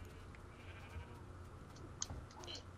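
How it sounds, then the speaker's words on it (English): A pink sheep bleats in the game Minecraft, a faint short call over low background hum with a small click near the end. "Oh, is this a pink sheep?"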